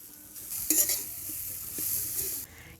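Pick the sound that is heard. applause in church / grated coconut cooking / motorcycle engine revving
grated coconut cooking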